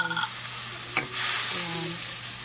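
White sardines sautéing in a pan for sayote ginisa, a continuous bright sizzle of frying with a stirring scrape partway through, close and steady.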